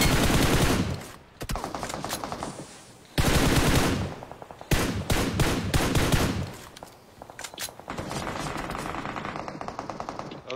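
Video game gunfire in a tactical shooter: loud, close automatic bursts of rapid shots, broken by short gaps and then resuming with sustained fire, with no speech.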